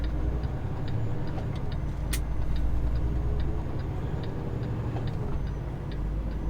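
A semi truck on new steer tires cruises onto the highway, a steady low engine and road drone filling the cab, with small regular ticking clicks over the rumble and one sharp click partway through.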